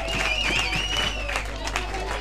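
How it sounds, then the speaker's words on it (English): Stadium crowd cheering and roaring for Spain after a long throw in an ultimate frisbee match, a steady loud wash of crowd noise with a commentator talking over it throughout. "the crowd goes wild here for Spain"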